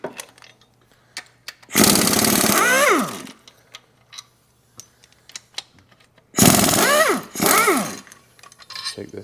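Motor mount bolts on a Chrysler minivan engine are removed with a power tool, giving two loud, close bursts of rattling, whining impact driving separated by quiet clicks of tool handling.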